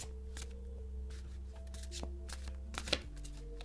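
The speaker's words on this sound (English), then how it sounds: "I'm just shuffling the cards now" Quick riffling snaps of tarot cards being shuffled, several bursts in a row over a low steady hum, fairly quiet and close.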